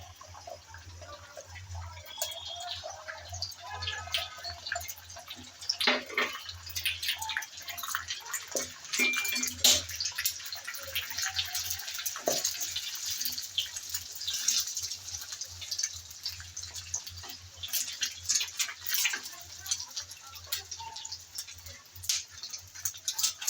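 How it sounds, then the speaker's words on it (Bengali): Beaten egg poured into lightly heated oil in a pan on a stove, giving a steady, close sizzle with crackling spits and pops that continue throughout. "গরম তেলে ফেটিয়ে রাখা ডিম দিয়ে"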